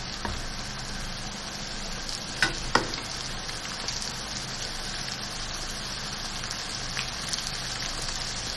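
Keema cooked with whole spices, tomatoes and oil, frying in a pot with a dense continuous sizzle and a few scraping stirs partway through, close and steady.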